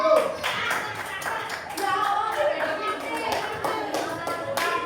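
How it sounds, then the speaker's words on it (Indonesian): Seventh-grade students in a junior high classroom in Malang clap for a winning group, a loose, uneven patter of sharp hand claps with children's voices chattering over it throughout. "Tepuk tangan untuk kelompok 1."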